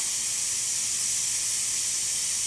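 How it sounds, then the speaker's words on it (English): The steam wand of a Breville Oracle Touch espresso machine hisses in a steady, continuous jet after a full service tune-up, moderately quiet and unbroken, with no talking. "And the steamer."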